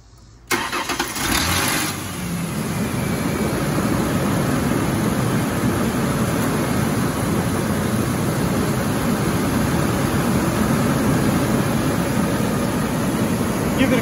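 A Ford Ranger pickup engine, just fitted with a new front spark plug after a P0304 misfire code, cranks briefly, catches and settles into a loud, steady rumbling idle that continues without break.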